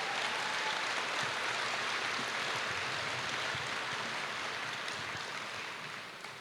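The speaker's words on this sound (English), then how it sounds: "how about a round of applause?" Applause from the audience at a military wing change-of-command ceremony, heard as a distant, even wash of many hands clapping with no distinct individual claps, slowly fading near the end.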